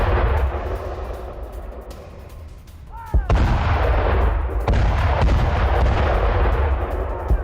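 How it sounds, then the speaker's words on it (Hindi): Artillery bombardment near Zaporizhzhia, with tanks and armoured vehicles hit: a loud, continuous roar of distant fire, broken by sharp heavy blasts partway through. "ज़ेपोरिज़िया में अपने ही ठिकानों पर यूक्रेन की बमबारी"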